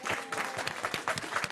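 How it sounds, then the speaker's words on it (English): Audience applause at a county Democratic party meeting, a round of clapping for volunteers, moderately loud and steady with uneven bursts of individual claps and a faint voice or two mixed in. "a big round of applause for everybody who came and volunteered and put in the work."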